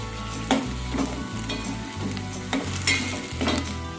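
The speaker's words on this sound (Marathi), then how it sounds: "आणि आता आपल्याला आलं लसूण मिरचीची पेस्ट यामध्ये टाकायची आहे आणि हे चांगलं असं परतून घ्यायचं आहे।" Chopped onions sautéing in a pot with ginger-garlic-chili paste for Maharashtrian misal, a steady sizzle with periodic scraping strokes of a spoon stirring the mixture at a fairly regular rhythm, no voices.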